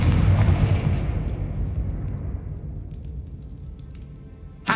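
A Confringo blast spell in Hogwarts Legacy erupts in a loud booming explosion that rumbles and slowly fades over several seconds, ending with a sharp sudden pop.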